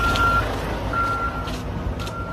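A huge bus reverses nearby, its backup alarm beeping in a slow, regular pattern of three tones over a low idling engine rumble.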